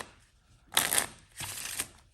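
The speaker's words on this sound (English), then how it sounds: "Give the deck a nice shuffle." A deck of playing cards is shuffled in two quick riffling bursts, crisp and close, with no talk.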